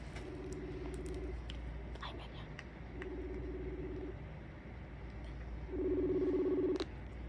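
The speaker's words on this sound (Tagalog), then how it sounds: "So, tatawagan ko is yung kapatid ko, guys." A mobile phone call being placed, with three repeated electronic ringing or dialing tones in short bursts over a steady low background hum; no voices.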